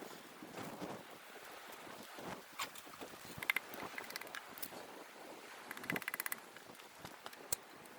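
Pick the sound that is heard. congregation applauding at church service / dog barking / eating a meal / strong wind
strong wind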